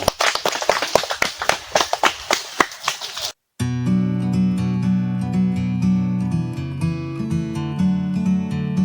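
A school class claps in a quick, sharp run of about a dozen distinct claps that speed into a burst, then stops abruptly before a sung song with steady accompaniment takes over.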